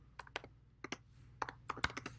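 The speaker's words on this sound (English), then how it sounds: "First thing I'm going to do is type in what I'm looking for." Keystrokes on a computer keyboard come in short irregular bursts, a few quick taps, then a pause, then more clicks. They are close and fairly quiet, with no voices.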